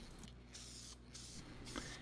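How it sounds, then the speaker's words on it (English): A Deft lacquer spray can mists a finish coat onto a handmade wooden mallet, giving a steady, close, continuous hiss that runs through the whole moment without pause. "Their spray cans are great for small projects like this."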